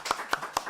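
Three crisp, evenly spaced hand claps ring out on a Korean talk show set, close and fairly quiet, each a sharp isolated slap with brief gaps between.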